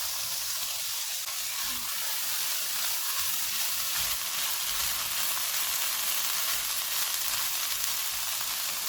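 Keema samosa filling frying in a pan, a steady close sizzle and hiss running continuously with occasional soft stirring scrapes.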